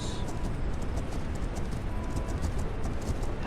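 Horse hooves in The Legend of Khiimori video game clip-clop in a quick, steady rhythm, close and continuous, with no voices.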